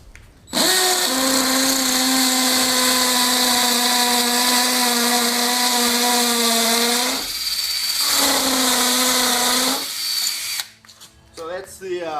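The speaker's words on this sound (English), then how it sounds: "we're going to go ahead and drill into this block just to show it to you in action" A cordless power drill runs at steady high speed, drilling into a block with a loud sustained whine for about seven seconds. It then stops briefly and revs again before cutting off.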